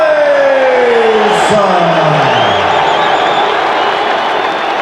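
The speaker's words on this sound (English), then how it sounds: "the crowd is ready for the heavyweight championship of the world" A packed boxing arena crowd roars loudly and steadily ahead of a Mike Tyson heavyweight championship fight, a dense, unbroken wall of cheering that holds for the whole stretch.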